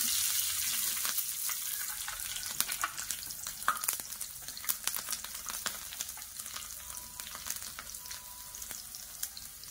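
Cumin and mustard seeds fry in hot oil with green chili, giving a steady sizzle scattered with sharp crackles and pops, close and moderately loud.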